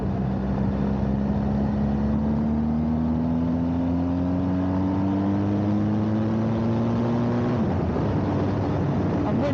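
Engine drone of a motorbike cruising on an open road, pitch climbing slowly and steadily as it accelerates, then dropping abruptly at a gear change, with heavy wind rush throughout.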